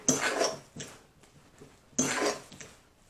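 Keto fathead pizza dough ingredients are stirred in a bowl, making two clattering bursts of utensil scraping and knocking against the bowl, close by, with quieter scraping between them.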